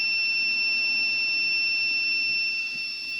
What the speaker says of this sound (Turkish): verdiği alarmı da bakalım.